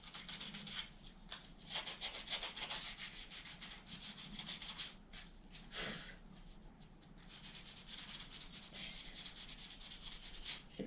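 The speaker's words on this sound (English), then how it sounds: "So 200 grit sandpaper works pretty good." A garden statue is sanded by hand with 200 grit sandpaper, producing steady, close, raspy rubbing strokes that repeat continuously at low volume with brief pauses.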